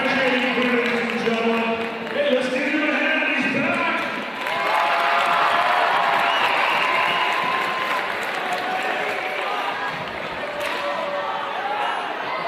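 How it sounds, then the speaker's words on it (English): Sustained applause from a high school gym crowd at a boys basketball game between Lone Peak and Pleasant Grove, a broad wash of clapping that swells after a brief dip, with voices mixed in. "the other referee returns to the gym with a series of applause"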